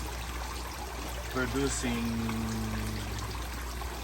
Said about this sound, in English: the water is falling down